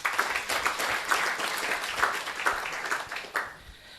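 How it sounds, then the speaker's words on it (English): A conference audience at an EU green power forum in Eswatini gives a round of applause for a minister, brisk clapping that holds steady before thinning out and trailing off near the end. "May we please give him another round of applause."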